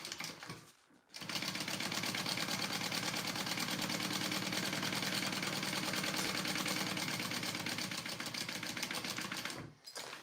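A sewing machine runs a big half-inch top stitch along the folded edge of a Rick Rolltop Petite backpack, a steady rapid mechanical whirr that starts after a short pause and cuts off near the end.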